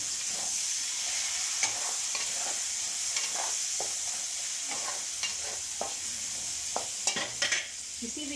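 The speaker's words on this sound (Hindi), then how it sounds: "अब मैं इसमें कटी हुई टमाटर को ऐड कर रही हूँ।" Chopped tomatoes sizzle steadily in a hot pan of masala for aloo dum, with repeated scraping stirs of a spoon against the pan cutting through the constant frying hiss.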